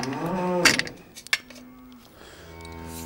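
Cows moo in a new barn, a couple of drawn-out calls near and clear, with a few metallic clanks between them.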